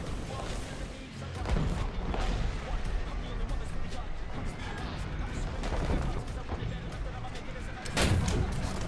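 Heavy booming tank cannon blasts from a Challenger 2 in the game War Thunder repeat through a dense, noisy battle mix, with a loud shot near the end, while a voice talks over it.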